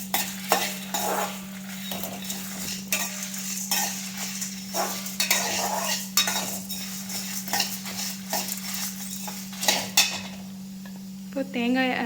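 Masala for chicken chettinad sautés in a pan, with repeated close scraping and stirring strokes of a utensil against metal over a faint sizzle and a steady low hum.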